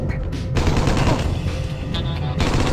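Enemy gunfire in the video game Dead Head Fred: loud, rapid bursts of shots crowd together into near-continuous automatic fire, dropping off briefly twice before resuming.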